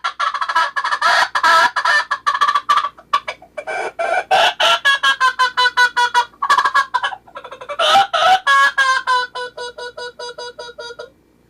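Loud, rapid, frantic squawks and clucks blown on a hand-controlled predator call imitating a chicken in distress, in bursts with short gaps, close and alone.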